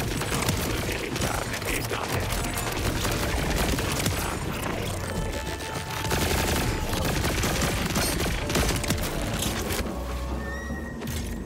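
Dense, continuous weapon fire from the Borderlands 4 video game rattles out in rapid bursts of shots. The shooting is loud and busy and fills the whole stretch, with game noise layered underneath.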